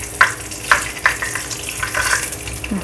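Shisamo fish sizzle and fry in a pan, a steady close crackle with a few sharper spatters and utensil taps standing out near the start.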